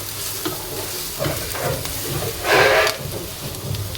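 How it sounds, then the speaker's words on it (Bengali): Onions and carrots sizzling in a pan with scraping stir strokes and a louder hiss burst midway, close by with no voices. "সুন্দর করে ভাজা ভাজা করে নেব।"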